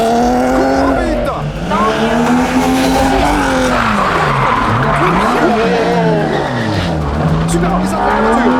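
A video game car speeds and skids, with a loud continuous engine whine rising and falling and tires squealing throughout, while an excited voice talks over it.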